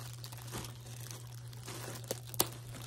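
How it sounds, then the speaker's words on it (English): Sticky tape crinkles and crackles as it is handled while unpacking a yarn order, a soft continuous rustle over a steady low hum, with a couple of sharper crackles near the end. "This tape is sticking to everything."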